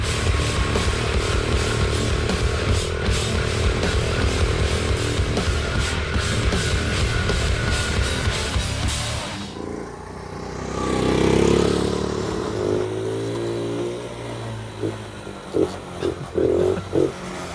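Small paddock bike engine running close by, a rapid buzzing putter for several seconds that then cuts out, followed by quieter rumbling and a few knocks near the end.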